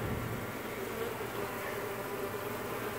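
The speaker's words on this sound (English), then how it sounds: "I'm going to continue vacuuming all these miscellaneous bees hanging out" Honeybees buzz in a dense, steady drone during a bee removal in Bradenton, Florida, the continuous hum filling the whole moment at moderate level with no speech.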